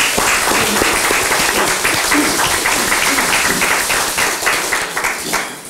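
A room of attendees at a party's Supreme Council meeting claps in thanks for a departing floor leader, a loud, close, continuous burst of many hands that fades slightly toward the end.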